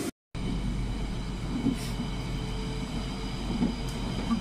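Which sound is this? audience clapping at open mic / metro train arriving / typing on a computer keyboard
metro train arriving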